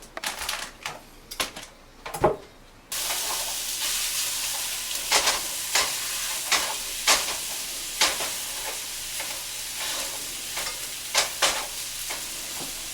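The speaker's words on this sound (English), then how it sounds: "While the sausage is browning" Sausage browns in a pan for a home egg casserole, with a steady sizzle broken by repeated scraping and tapping strokes of a utensil breaking up the meat.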